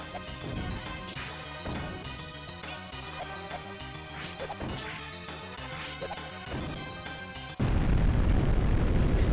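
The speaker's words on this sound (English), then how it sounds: "The explosion sound effects are incredibly good in this" Explosions in a Super Nintendo shooter fired with spamming lasers: a rapid series of loud, crunchy digital blasts bursts out one after another, ending in a sustained, louder roar of noise.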